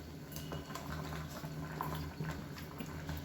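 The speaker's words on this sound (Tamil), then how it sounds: "இப்போ நல்லா கொதிக்க ஆரம்பிச்சிருச்சு" Karamani (black-eyed pea) masala curry boiling in a cooking pot, a steady close bubbling and simmering hiss with a low rumble throughout, no voices.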